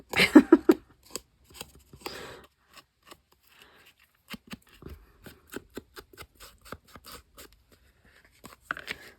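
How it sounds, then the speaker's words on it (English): Scissors cutting paper in a craft studio, a series of close, crisp snips and rustles at irregular intervals, with a brief voice at the start. "Apparently I'm not very good at cutting with scissors either."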